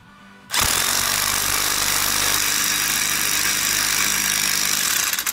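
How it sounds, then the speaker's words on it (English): Impact wrench on a Foxbody Mustang driving a lug nut to pull a new wheel stud into its seat against the rotor: a loud, steady, close buzzing hammer that starts abruptly after a brief pause and runs continuously to the end. "With your impact wrench, you're going to drive that lug nut in, and that's going to pull your stud through"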